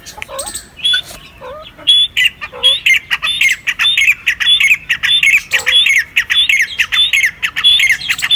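A male partridge gives repeated loud, harsh squawking calls in quick bursts, close by and fairly rhythmic, with a few softer notes between.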